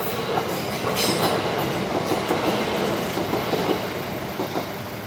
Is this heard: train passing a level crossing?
yes